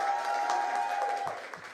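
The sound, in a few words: audience applause for Rahama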